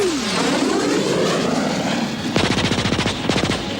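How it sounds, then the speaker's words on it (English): A fighter plane's machine gun opens fire during an aerial dogfight, with an engine roar sweeping down in pitch before rapid bursts of close, loud staccato shots crackle over it. "I got my plane in position right behind one of theirs, and I opened fire."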